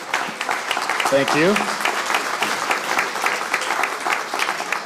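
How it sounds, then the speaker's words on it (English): An audience at a civic kickoff event in Kalamazoo breaks into sustained applause, a steady crackle of many hands lasting throughout, with a brief spoken thanks over it partway through. "So all of these teammates deserve an incredible round of applause"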